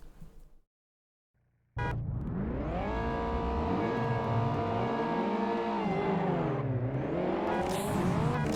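A Honda Civic races in the video game Juiced, its engine roaring loud and steady after a brief near-silent start, pitch rising and dipping through gear changes, with tire noise underneath.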